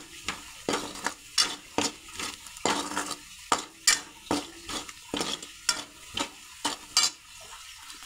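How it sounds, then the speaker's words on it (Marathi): Fresh farm bitter gourd is stir-fried in tempering oil in a pan, with a spatula scraping and tapping the pan in a quick, regular rhythm over a faint sizzle, close and clear. "असं परतून घ्यायचं."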